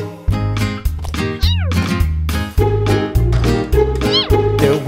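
Meow-like cries in a children's nursery rhyme about a farmer's cat, sounding in a regular rhythm over a bouncy, loud musical backing with repeated notes.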